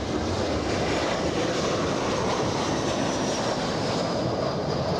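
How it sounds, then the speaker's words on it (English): A Southwest airliner comes in to land at LAX, its jet engine roar steady and broad, a continuous rushing drone with no talk over it. "We got a Southwest coming in for arrival."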